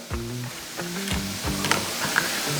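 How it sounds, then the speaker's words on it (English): Bacon and potatoes fry on a Blackstone 22-inch E-Series griddle, a soft steady sizzle with a few crackling pops, heard close and alone while a few tonal beeps and clinks sit lightly in the background. "Just got my bacon getting all crisped up, making a great topping for the soup when it's done. Potatoes getting some nice color"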